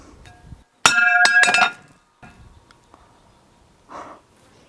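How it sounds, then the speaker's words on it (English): A vintage Pyrex glass pie plate dropped onto brick gives a loud ringing clatter as it strikes and bounces several times, then a single fainter clink a couple of seconds later, in an otherwise quiet outdoor setting. "I can't believe the vintage Pyrex pie plate just bounced off the brick."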